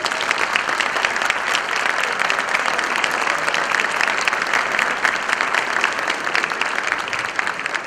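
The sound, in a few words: audience applause at a technology congress ceremony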